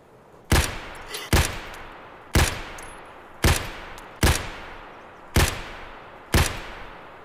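Single gunshots in Escape from Tarkov ring out loud and close, seven separate cracks spaced roughly a second apart, each trailing off in a short echo.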